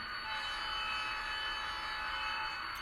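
The horn of an Atlas N scale model locomotive, a steady electronic tone, sounds continuously over a constant hum of the running engine, close and fairly loud with no pauses.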